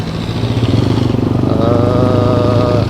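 A TVS Max 125 custom scrambler motorcycle with its engine running close by, a loud, steady, rhythmic thumping that rises slightly in pitch partway through.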